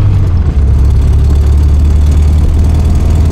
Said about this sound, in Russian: мотор работает сейчас прям по заводскому, как он должен работать